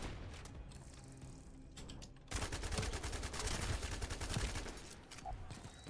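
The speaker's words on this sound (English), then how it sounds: "Let's gun him down with the Enduring Legacy." Heavy automatic gunfire from the Enduring Legacy weapon in The First Descendant during a hard-mode Asylum run, loud sustained bursts with chaotic combat noise that jump in intensity after a quieter opening.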